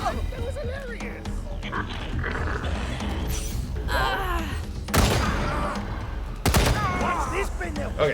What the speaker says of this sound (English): Now I gotta shoot him.